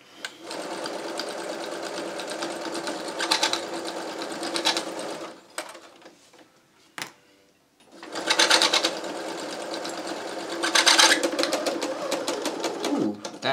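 A sewing machine stitching a clown bodysuit runs in rapid rhythmic bursts, loud and close, pausing briefly midway before whirring on again.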